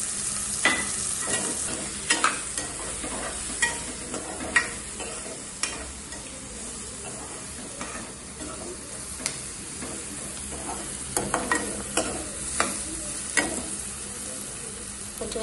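Onions and green chillies frying with turmeric in a pan, a steady sizzle throughout, punctuated by regular scraping clicks of a spatula as they are stirred.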